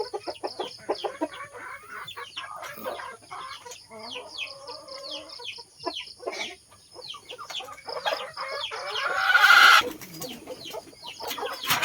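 Chickens cluck and squawk in a farmyard among other pet animals, including pigeons. The calls are busy, overlapping and fairly close, with a louder burst of squawking near the end and no talking.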